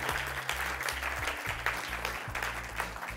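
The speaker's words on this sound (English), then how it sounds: "big round of applause for Cleantech Scandinavia and the other sponsors" Applause from a conference audience thanking the event sponsors, a steady wash of clapping through the whole stretch, with a low rhythmic hum pulsing underneath.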